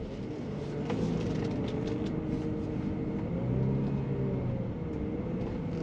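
A BMW 335i E93 LCI convertible with a straight-six engine pulls away from a stop, a steady low engine rumble rising gently as it drives off, close and continuous with no talking.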